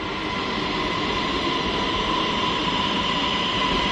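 A train pulls into a station in Thailand, its steady loud rumble and hiss filling the whole stretch without a break, a faint tonal whine riding above the broad noise.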